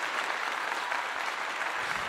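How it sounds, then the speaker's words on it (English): An audience applauds in a steady, dense burst of clapping lasting about two seconds. "Let's give that a clap."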